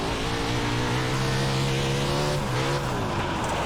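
A 360 sprint car on the dirt oval at Port Royal Speedway in the iRacing game, its engine droning loud and steady with a rising, then falling pitch as the throttle is worked, with no talk.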